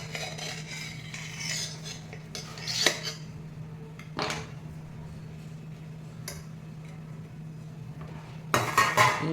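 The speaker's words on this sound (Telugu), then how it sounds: "చూడండి అట్లా కొడుతున్నాను ప్లేట్ని." A plate of steamed liver is tapped to loosen the stuck pieces: a few scattered metallic clinks and knocks sound close by over a quiet room hum, with no voices.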